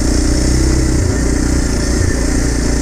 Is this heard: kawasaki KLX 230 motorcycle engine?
yes